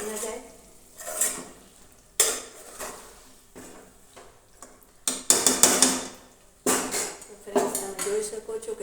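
A metal spoon stirs and scrapes eggplant sabzi in a pan in uneven bursts, with soft sizzling between strokes and a voice talking at times.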